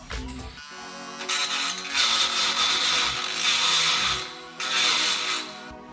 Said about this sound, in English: I'm also probably going to be taking a Dremel and filing down any hard edges in there as well.